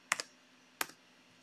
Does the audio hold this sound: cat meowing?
no